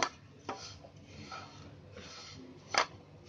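Sesame seeds dry-roasting in a pan over raised heat give a faint, steady rasping scrape as they are stirred, with a few sharp crackles and pops standing out, one near the start and a brighter one toward the end.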